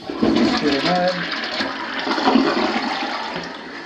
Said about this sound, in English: This is the primary bedroom suite commode.